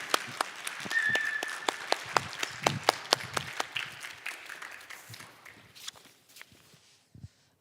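Warm audience applause rises at a Korean church mission conference to welcome a missionary from Punjab, India: dense, steady clapping near and far that gradually thins to a few scattered claps at the end.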